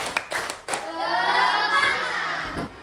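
Classroom of students clapping, a few separate claps at first, then a sustained burst of hand clapping with some children's voices in the background.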